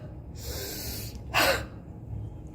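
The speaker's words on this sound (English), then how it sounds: "Take deep inspiration," A single deep, forceful inhalation taken as a breathing exercise for clearing lung secretions, heard as one close, brief rush of air with a quieter breathy sound just before it.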